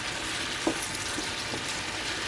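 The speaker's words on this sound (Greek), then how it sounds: "Έχουν ξεκινήσει και σοτάρονται." Chopped onions sautéing in oil in a pan for stuffed aubergines, a steady soft sizzle with a few light clinks of a utensil against the pan and no voices.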